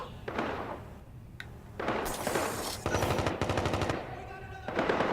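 Rapid automatic gunfire in the video game Watch Dogs 2, several loud bursts of fast repeated shots separated by short pauses, close and punchy.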